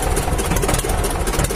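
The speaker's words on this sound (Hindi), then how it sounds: "इससे हम ट्रैक्टर स्टार्ट करेंगे" Escort 335 tractor engine running at idle, a loud, rough, steady diesel rumble with constant vibration filling the whole moment, no voices.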